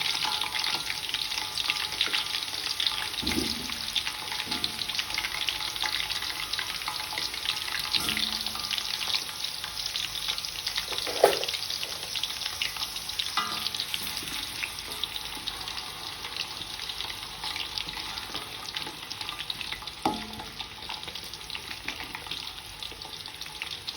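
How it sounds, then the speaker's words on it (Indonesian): Steady crackling sizzle of potatoes frying in hot oil, with occasional stirring clinks and soft bumps. "Ini kentangnya kita goreng terlebih dahulu ya."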